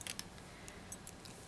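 Wire cutters snipping thin beading wire while making earrings, giving a few faint, sharp clicks close by in a quiet room.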